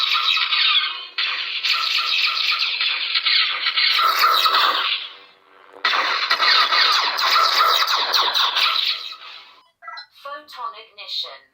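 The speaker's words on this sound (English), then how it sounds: "It acts like a blaster when you hit the power button." Green Anakin Skywalker Episode 2 replica lightsaber from Vader's Sabers in blaster mode: two long, loud, harsh buzzing bursts with a short gap between them, then a trail of quicker chirping squeals.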